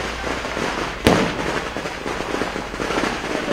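Fireworks crackle steadily outdoors outside the IMAX cinema in Wadala, Mumbai, with one sharp, loud bang standing out near the start above the dense popping.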